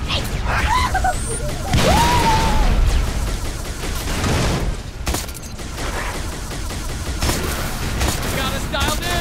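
A grenade explodes in a military shooter video game with a booming blast among sustained gunfire, shouting and game noise, loud and close throughout.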